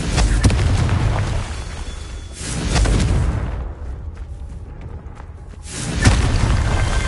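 Confringo explosive spell blasts in Hogwarts Legacy, a series of loud booming bursts with rumbling tails, spaced apart and separated by quieter gaps.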